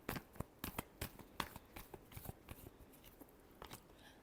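Tarot cards are shuffled in a quick run of crisp, dry riffles and flicks, with several sharp snaps early on and softer shuffles trailing off, close by and quiet.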